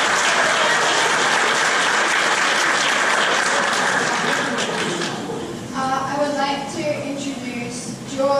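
Audience applause at a primary school Grade 6 graduation, a full, steady round for about five seconds that fades into lighter clapping under a voice speaking over a microphone.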